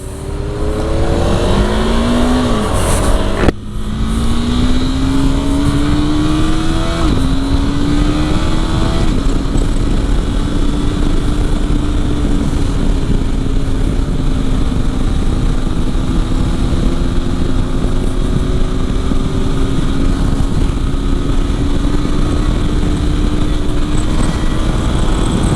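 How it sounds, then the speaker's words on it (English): A KTM 390 Adventure motorcycle, geared with a 14-tooth front and 47-tooth rear sprocket, accelerates through several gear changes and then cruises steadily, its engine buzz loud and close against constant wind rush. "I am riding my KTM 390 Adventure."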